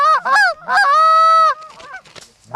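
A goose honks loudly and close during a goose hunt, a few drawn-out nasal calls in quick succession, followed by quieter sounds at the end.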